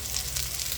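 Ground masala paste is poured into chicken frying in butter, giving a brief, steady close-up sizzle with a bubbling crackle and no talking.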